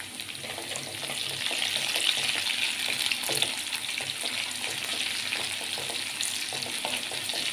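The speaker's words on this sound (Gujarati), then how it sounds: "હવે આપણી ડુંગળી થોડી બ્રાઉન થવા માંડી છે તો આપણે એની અંદર નાખી દઈશું લીલા મરચાં." Green chillies and browning onions fry in a pan for Kathiyawadi-style vaghareli khichdi, giving a steady, close, bright sizzle with faint crackles throughout and no talk.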